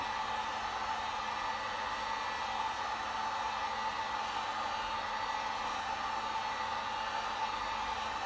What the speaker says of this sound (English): heat gun. Getting quite close because I want the heat to really penetrate